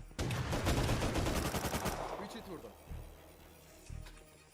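A rapid burst of loud automatic gunfire in the video game Rust, followed by a couple of isolated single shots, with people talking over it.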